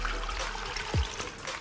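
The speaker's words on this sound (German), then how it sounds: "Und dann 650 Milliliter Wasser." Water, 650 ml of it, pours into a Thermomix bowl while cooking asparagus with potatoes, a short close trickling gush with a brief splash, no talking.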